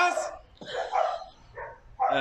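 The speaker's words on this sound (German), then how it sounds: "Jetzt bellt der andere Hund auch noch." A few sharp dog barks ring out close by, spaced unevenly across a couple of seconds, with a louder bark at the end.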